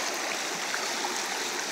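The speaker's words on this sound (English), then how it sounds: "this is actually normally just a small stream" A small creek-like stream flowing over stones in woodland, a steady broadband rush and trickle at moderate level throughout with no voices.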